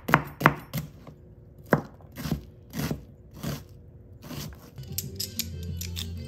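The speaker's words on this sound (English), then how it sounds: "So I'm just gonna get my onion cut here and I'm just using a medium-sized onion" A knife chops through a medium-sized onion on a board, giving a string of crisp, close cuts in uneven bursts, with softer crunching slices near the end.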